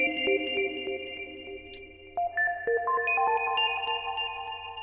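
Synth lead line of bright, glassy sustained notes stepping through an in-key melody with randomised velocities, each note varying in loudness over a faint low drone, moderately loud with no voices.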